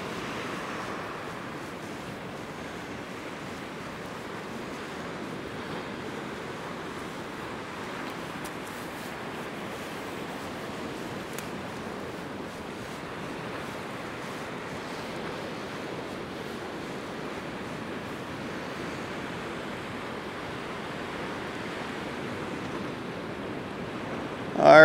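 Ocean waves roll against the shore at Bauline East, a steady, moderately loud wash of surf with wind noise and no distinct individual breakers.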